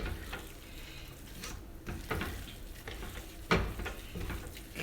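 Colcannon potatoes being stirred in a pan, soft scraping and sizzling with scattered clicks of the utensil, fairly quiet and close.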